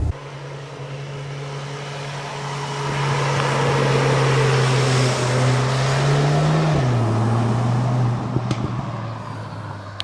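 A Cupra Formentor VZx cruising through city streets, its engine a steady low hum heard from inside the cabin, with the pitch rising and then dropping briefly near the end, over a broad road rush.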